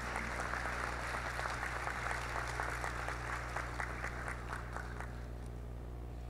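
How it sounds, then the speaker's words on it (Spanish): Audience applause at a corporate social responsibility award ceremony in Honduras, steady clapping for about five seconds over a constant low hum, fading toward the end. "les pedimos, por favor, un fuerte aplauso para SIP San José."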